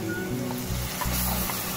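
Ginger paste with turmeric powder sizzling loudly as it is stir-fried in a pan, a dense, continuous hiss with stirring scrapes, close and without any voices.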